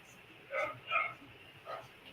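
Dogs barking at a distance in short yips and woofs, three quick bursts over a steady background hiss.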